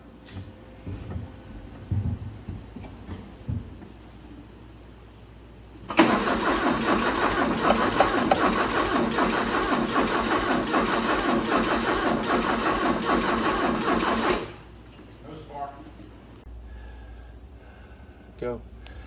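Porsche 944 engine, running on an aftermarket electrical system with ether assist, cranks and catches, then holds a loud, steady idle for about eight seconds before cutting off abruptly, with brief talk and shuffling before and after.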